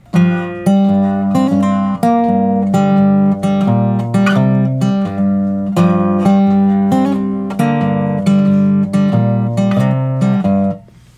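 Slow delta blues fingerpicking on acoustic guitar, a steady monotonic thumbed bass pulsing under repeated treble riffs, a continuous close and fairly loud passage of plucked notes with no talking.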